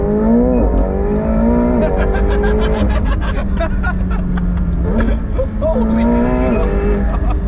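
A McLaren 720S pulls hard under acceleration, its engine note climbing in repeated rising sweeps through the gears, loud and close, with an excited voice briefly exclaiming over it.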